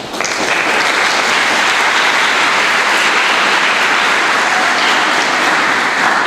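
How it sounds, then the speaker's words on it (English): A large audience claps in sustained, dense applause at a South African Science Olympiads awards ceremony, loud and steady throughout with no voices over it. "They need a round of applause for that."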